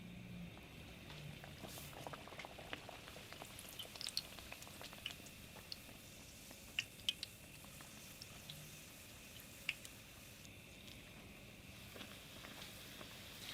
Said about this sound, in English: you're going to place your sopapilla in your oil gently